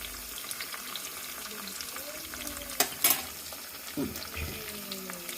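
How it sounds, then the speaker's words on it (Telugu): Dried red chillies and asafoetida fry in hot oil in a pan with a steady close sizzle, broken by a few sharper crackles and clinks of stirring. "ఇప్పుడు ఎండుమిర్చి వేస్తున్నాం ఇప్పుడు ఇందులో కొంచెం ఇంగు వేసుకోవాలి మంచిగా వేగాలన్నమాట"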